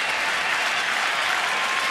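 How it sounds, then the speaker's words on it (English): Baseball crowd at Camden Yards cheering and applauding in the ninth inning, a dense, steady roar of clapping and shouting that fills the whole stretch at close, loud level. "Crowd on their feet here at Camden Yards"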